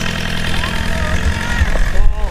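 An enduro motorcycle engine runs at full throttle at a gravel pit, a steady, loud drone, while voices talk over it.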